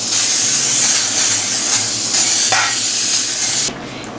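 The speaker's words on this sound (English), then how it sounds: "I'm gonna grease it with coconut oil spray." A coconut oil cooking spray hisses continuously at close range for several seconds while greasing a pan, with slight pulses in intensity, then cuts off abruptly.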